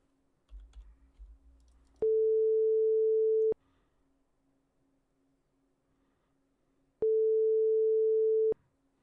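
Telephone ringing tone on an outgoing call, two long steady electronic beeps about five seconds apart, clean and loud against near silence after a brief rustle.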